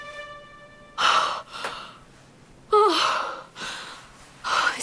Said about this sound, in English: No, she's breathing on her own.